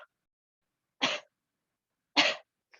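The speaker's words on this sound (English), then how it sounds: "when we cough, we engage our diaphragm" Two sharp, deliberate coughs about a second apart, loud and close, performed as part of a pranayama breathing exercise, with near silence between them.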